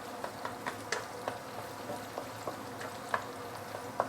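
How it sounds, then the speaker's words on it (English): Minced pork belly browning in a pan, a soft steady sizzle with small scattered pops and crackles throughout, close and fairly quiet, no voices. "Now you start seeing the pork started to brown a little bit."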